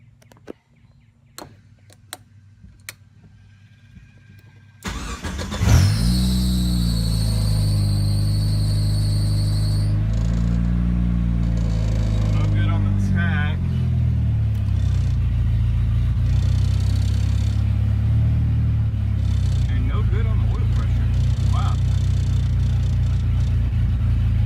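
Swapped 4G63 engine in a Mitsubishi Mighty Max pickup cranks over after a few faint clicks, catches with a loud burst and settles into a steady, close idle with small throttle blips and rising revs throughout.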